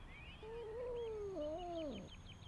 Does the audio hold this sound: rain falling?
no